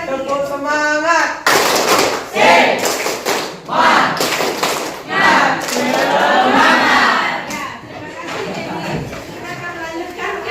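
A group at a teachers' coaching training session performs a rhythmic 'tepuk semangat' clapping chant: sharp bursts of claps and thumps mixed with loud chanting voices, near and lively throughout.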